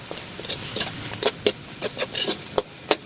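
A spoon stirring a pot of ginataang papaya seasoned with pepper, seasoning and salt, cooked over a wood fire, giving a soft hiss with a series of irregular scraping and clinking strokes.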